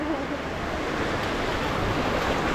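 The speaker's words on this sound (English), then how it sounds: "Here we go, getting in the water." Ocean surf at a tropical island beach, a steady broadband wash of waves and wind close to the microphone, continuous and moderately loud with no voices.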